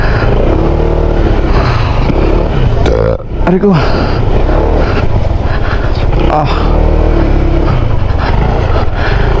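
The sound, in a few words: motorcycle engine revving on a rough trail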